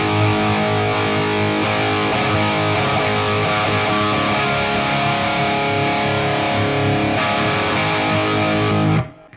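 Epiphone Les Paul Prophecy electric guitar played through a tube screamer overdrive, a loud, dense distorted tone with sustained chords and chugging notes ringing continuously, then cutting off abruptly at the end.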